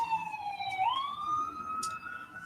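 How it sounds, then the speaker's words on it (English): A wailing siren sweeps up and down in pitch, clearly audible over a low background hum, sounding moderately distant. "We got sirens."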